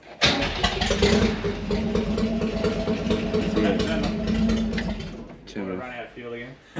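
Holden HT Ute engine cranking and catching, then running with a steady loud rumble for several seconds before cutting out, with a voice talking briefly at the end.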